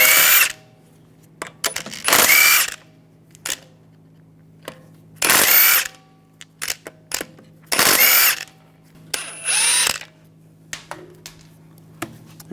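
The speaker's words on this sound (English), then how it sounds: "We're going to remove the wheel, use a 17mm socket," Power tool spinning a 17mm socket to remove the wheel lug bolts from a 2009-2013 BMW 328i xDrive, heard as five loud, separate bursts of about a second each, with quiet pauses and light clicks in between.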